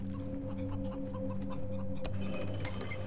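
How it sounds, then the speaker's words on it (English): Chickens cluck in the video game Wasteland 3, short repeated clucks over a steady humming game soundtrack with a sharp click partway through. "Oh, chickens!"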